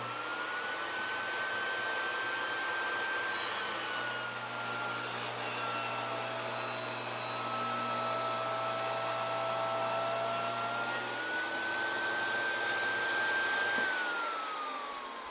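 A SawStop compact table saw runs steadily at close range and cuts a push stick with the fence set tight, its loud whining motor droning throughout and the pitch dipping slightly as the blade bites into the wood.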